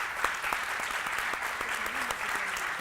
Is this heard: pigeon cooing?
no